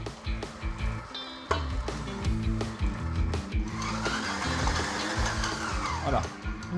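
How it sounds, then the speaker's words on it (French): Dough mixer kneading Alsatian kouglof dough made with flour and milk powder, a loud droning motor hum with rhythmic churning thumps, shifting to a higher whirring grind partway through. "Et là, on va commencer à pétrir."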